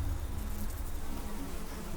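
Wasps buzz loudly in a steady close drone with no pauses, in the wild in New Zealand.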